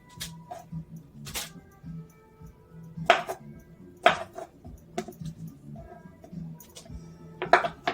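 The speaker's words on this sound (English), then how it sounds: "You're just cutting off the sausage or the kielbasa" A knife slicing through kielbasa sausage, apparently on a cutting board while prepping a crockpot dish, gives a handful of sharp, close chopping knocks at irregular intervals over a low background hum.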